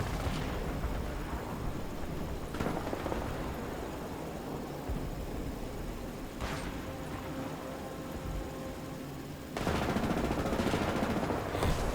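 A T-60 light tank fires in War Thunder: three heavy, booming shots ring out several seconds apart over a constant loud engine and battlefield rumble.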